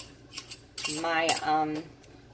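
A metal canning lid set onto a glass jar packed with raw chicken, giving a short clinking, ringing scrape of metal on glass, close and fairly loud, with no talking.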